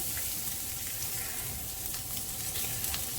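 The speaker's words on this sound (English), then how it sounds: "first in, the garlic. Give the garlic a little brown." Garlic sizzles and fries steadily in a hot pan as a first step in cooking Bicol Express, a dense continuous crackle with scattered pops and no talking.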